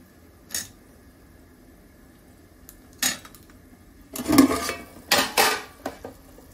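Rice is poured into a metal pot of boiling water for chicken biryani, with a few clinks and a rattling pour of grains against the pan, close by and with no talking.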